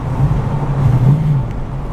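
A 1947 Ford coupe street rod with a 350 engine and 700R4 transmission drives past, giving a steady, loud, close engine and road rumble with no talk.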